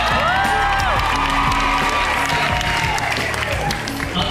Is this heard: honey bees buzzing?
no